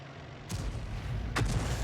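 Two heavy booming gunshots in a tank-battle video game, about a second apart, each a loud sharp blast over a constant low engine rumble.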